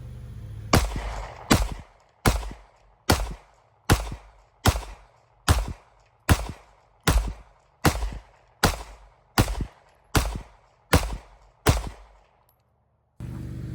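A Ruger RXM pistol fed from Glock magazines fires about fifteen loud, sharp shots at an even, deliberate pace on a shooting range. Each report rings briefly before a short pause, and the string ends in a longer gap.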